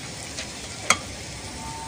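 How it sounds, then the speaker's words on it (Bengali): Garlic frying in a pan for a dhaba-style tadka gives off a quiet, steady sizzle, broken by one sharp clink partway through. "রসুন সব ভাজা হচ্ছে"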